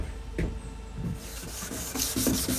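Sandpaper rubs back and forth across a shiny spot on a car fender of a 1932 coupe during bodywork, a close, steady scratchy scrubbing with uneven strokes.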